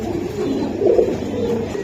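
Racing pigeons coo at close range, a brief soft swell of throaty cooing rising and fading without talk.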